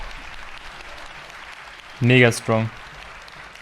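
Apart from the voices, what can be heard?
audience applause at the PC Gaming Show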